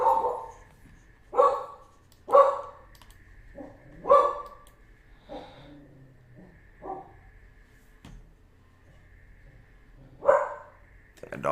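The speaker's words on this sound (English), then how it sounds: "My dogs go nuts." Several dogs barking in a home, loud separate bursts in a loose series of about five or six barks, with quiet gaps and a faint background hum between them.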